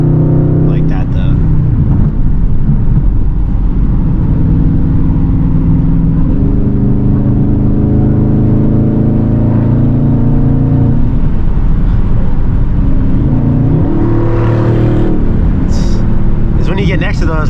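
A straight-piped Dodge Scat Pack rumbles and revs while driving through traffic, its deep exhaust drone loud and steady throughout, rising and falling in pitch, with people talking over it inside the car.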